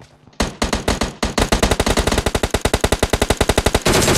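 Automatic gunfire in the mobile shooter PUBG Mobile Lite: a loud, close machine-gun burst that starts after a single shot and then hammers on as a long rapid string of evenly spaced cracks.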